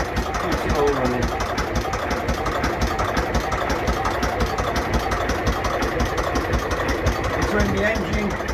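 A diesel engine on a 52-foot tug-style narrowboat runs at a steady idle with an even knocking pulse throughout, close and loud, with a voice talking over it.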